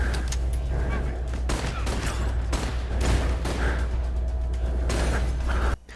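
Rapid gunfire from a VR shooter game plays as dense, continuous bursts of shots with whooshing effects, steady and loud across the clip, ending with a brief drop near the close.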